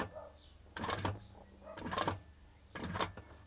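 A Hightex 7138 industrial walking foot sewing machine runs very slowly, making three separate quiet thumping stitch bursts about a second apart, close by, against a low steady hum.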